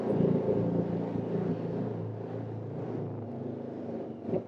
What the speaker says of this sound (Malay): Ini motor gede ya?